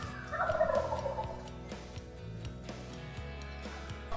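An Eastern wild turkey gobbler gobbles from its roost beside a field, a rich rattling burst early on that fades into quieter background calls and rustle, moderately distant and with no talk.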